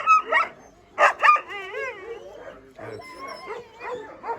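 Two female Kangal puppies, about three and a half months old, yip and whimper on a farm. Short bursts of barks alternate with wavering whines, close by, with no clear talking.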